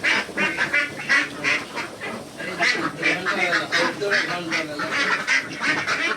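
A flock of ducks on a farm quacking and honking in a noisy, continuous chorus nearby, with a person talking in the background now and then.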